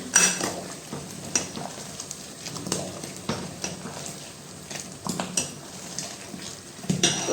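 A ladle stirs vegetable curry in a pot while dal boils nearby. Metal scrapes and clinks come in an irregular series of knocks, close and moderately loud, with kitchen noise behind.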